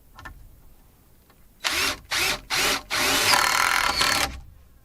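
A power drill drives 3.5-inch framing screws into wood while framing a window, with three short whirring bursts followed by one longer sustained run, loud and close, after a quiet start.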